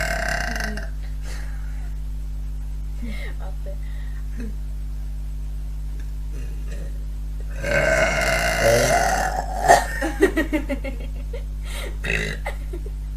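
Two women burp loudly in turns, a cluster of deep belches near the middle, with brief chuckles and short German talk around them over a steady low hum.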